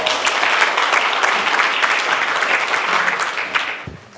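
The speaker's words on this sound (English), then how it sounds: "So let's give her a round of applause." A crowd at an installation ceremony for a Korean American Democratic association applauds steadily for about four seconds, dense and sustained, then tapers off at the end.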